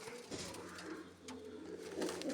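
A domestic pigeon with one dark eye and one pale white eye coos softly and repeatedly at close range over a steady low background hum.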